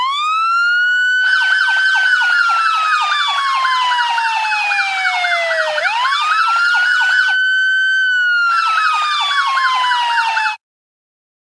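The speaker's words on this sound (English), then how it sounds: "And now we can activate the dual tone siren." A synthetic dual-tone vehicle siren from an Unreal Engine 5 siren plugin blares loud and close, rapidly warbling and sweeping down and back up, cutting out briefly midway before resuming, then stopping abruptly.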